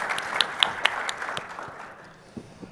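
Audience at a blockchain conference session applauding, a burst of scattered claps that thins out and fades to a few last hand claps.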